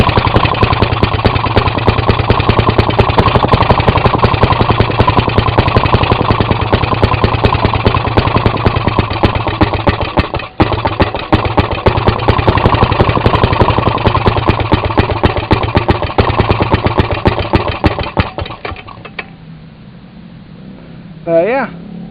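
An old Maytag Model 92 washing machine's single-cylinder gasoline engine, its carburetor needing adjustment, runs loud and close with a fast, steady popping beat for about nineteen seconds, then cuts out and leaves quieter handling noises.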